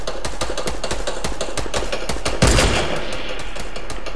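Rapid bursts of video game gunfire crackle steadily throughout a firefight, with a louder, sharper impact blast near the middle; no talking.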